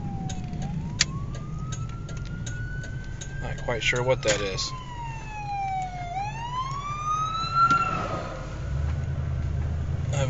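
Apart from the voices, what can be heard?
police or ambulance siren passing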